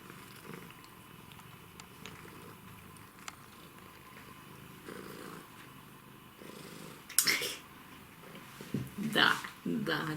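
A cat purrs close up, a soft rhythmic low rumble that carries on steadily, while a person talks to it in bursts toward the end.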